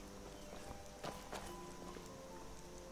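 Faint horse hooves clip-clop in Skyrim, a few soft irregular footfalls heard at a distance over a low, steady ambient background.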